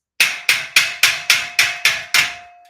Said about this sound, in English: hopefully let it drop and I can hammer it in